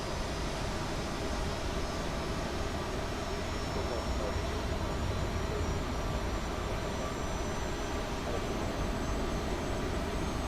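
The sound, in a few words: Aerosoft CRJ jet engine starting up, from video game MSFS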